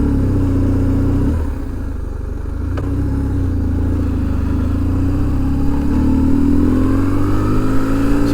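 A motorcycle riding on a road, heard close and loud from the rider's position, with a steady engine drone, a brief dip near the start, and the pitch rising as it accelerates toward the end.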